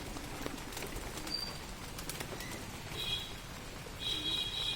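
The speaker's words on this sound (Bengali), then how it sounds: "এই যে পায়রাকে খেতে দেওয়া হচ্ছে, সব কিন্তু আস্তে আস্তে চলে আছে।" Pigeons feeding at a rural homestead give soft coos and calls with bursts of wing flapping, moderately close over a background hiss, and no one speaks.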